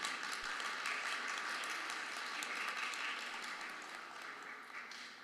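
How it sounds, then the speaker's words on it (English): A round of applause from a convention audience greets Kiowa panelists, steady and fairly distant, holding evenly for several seconds before tapering slightly. "Can we give our Kiowa relatives a big round of applause?"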